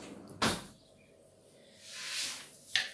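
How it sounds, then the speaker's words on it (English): A kitchen drawer slides open for oven gloves while making an American cheesecake, giving a sharp close knock, a quiet pause, then a broad rising slide and a second brief clack near the end. "I can go and get the oven gloves out of the drawer"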